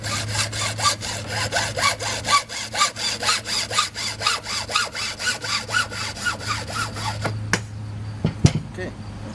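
Hand saw cutting through wood for a homemade rink rake, a steady run of about two dozen rhythmic back-and-forth strokes close by, ending with a few sharp knocks, over a low constant hum.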